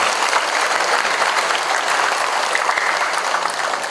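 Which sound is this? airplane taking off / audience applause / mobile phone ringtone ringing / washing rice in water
audience applause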